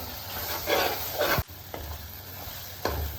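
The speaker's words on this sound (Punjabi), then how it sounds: "ਮਸਾਲੇ ਨੂੰ ਚੰਗੀ ਤਰ੍ਹਾਂ ਭੁੰਨ ਲੈਣਾ" Spices roast and are stirred in a pan while making Punjabi kadhi, a spoon scraping in short strokes over a steady sizzle, close and fairly loud.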